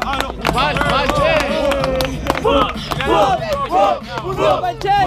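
A rap battle crowd claps and shouts after a 2vs2 freestyle round, with loud, close-up whoops and scattered hand claps building over the noise.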